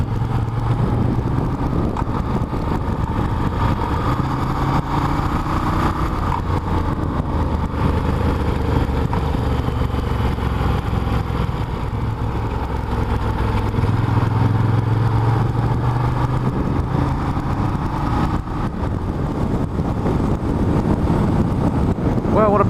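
A motorcycle rides along Mulholland Highway, its engine droning steadily with shifting pitch as it accelerates and eases, mixed with constant wind buffeting at the microphone.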